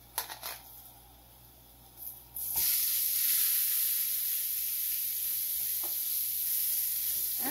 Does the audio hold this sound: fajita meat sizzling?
yes